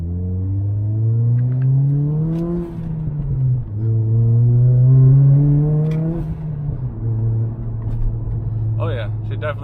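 Turbocharged Toyota Corolla engine revving hard through rising gear pulls, climbing in pitch then dropping at each shift, loud and close, with a brief whistle-like hiss near the end.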